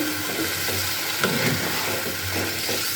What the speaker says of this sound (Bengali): বাটিটা ধুয়ে একটু জল দিয়ে দিলাম দিয়ে খুব ভালো করে নাড়াচাড়া করে নিচ্ছি